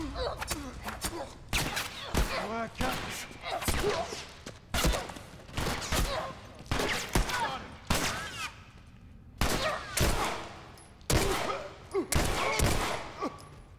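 Enemy gunfire in The Last of Us: Left Behind comes in repeated loud bursts and volleys of shots with short gaps between them, with a voice talking in places among the shots.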